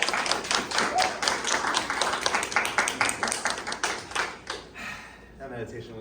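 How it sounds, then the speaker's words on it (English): A small audience claps for the first speaker, with scattered hand claps forming a short patchy burst that thins out and fades over the last second. "Let's give a big round of applause for our first speaker."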